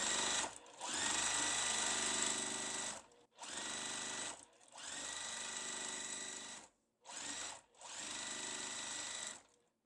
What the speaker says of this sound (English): And I'm going to sew this on like this.